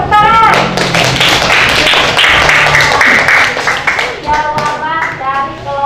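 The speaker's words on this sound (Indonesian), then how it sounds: "Oke, tepuk tangan." Students in a classroom clap together in brisk, close, fairly loud rhythmic claps, with children's voices and calls mixed in around the start and end.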